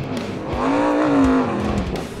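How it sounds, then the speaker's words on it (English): A student-built race car on a track, a single loud pass with the engine note swelling and then fading as it goes by. "They're actually physically building race cars here and racing them."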